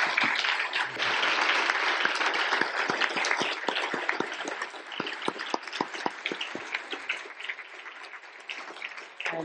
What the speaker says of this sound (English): I think these gentlemen deserve a rousing round of applause